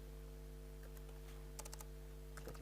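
Quiet, intermittent typing on a computer keyboard, a few scattered key taps and then short bursts of clicks over a constant low hum, with no talk.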